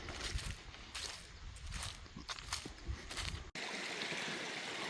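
Creek water flowing beside a hiking trail on the way to Lee Falls, a steady close trickling and rushing that fills the clip, with a short break near the end followed by a brighter, even hiss.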